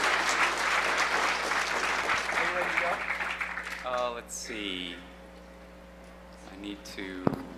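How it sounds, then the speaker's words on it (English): An audience at a hacker conference talk gives a burst of applause, a dense, loud wash of clapping that fades after a few seconds, followed by people talking close to the microphone. "Give him a round of applause just for his hair."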